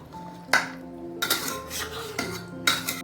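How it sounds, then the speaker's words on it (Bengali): Metal spoon scraping and clanking in a pan as mutton curry with fried onions is stirred, several sharp knocks spaced apart between softer scraping, close and clear. "এরপর ভালোভাবে নাড়িয়ে চালিয়ে নিতে হবে, তাহলে তৈরি আমাদের মাটন।"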